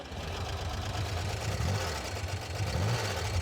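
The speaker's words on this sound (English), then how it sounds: "Got a cool sound. It's kind of VW, but it's got a thump." A custom car engine idles with a VW-like air-cooled character and a heavy rhythmic thump, a steady low rumble that pulses unevenly throughout, close and fairly loud, with no talking.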